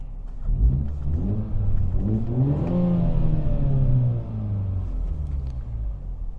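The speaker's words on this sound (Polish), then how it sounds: "W wydechu otworzy nam się dodatkowo przepustnica i samochód będzie chodził troszeczkę głośniej." A MINI Cooper S 2.0 petrol engine revs up in sport mode with the exhaust flap open, its throaty exhaust rising in pitch and volume, then settling back to a steady, deep idle rumble.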